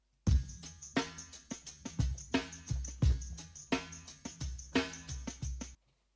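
A drum break, slowed to half time, loops steadily with heavy kicks, crisp snares and shimmering hi-hats in a laid-back groove, loud and upfront until it stops abruptly near the end.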